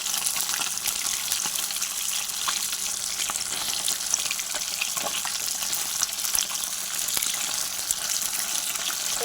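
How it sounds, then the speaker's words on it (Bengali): Tilapia fish pieces frying in oil in a pan, giving a steady, dense hiss and crackle throughout, with occasional small pops and no talking. "দেখো আমি মাছগুলো ঠিক করে ভেজে নিচ্ছি"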